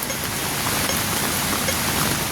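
Steady rain hisses continuously at an even level, a dense wash of noise with no voices.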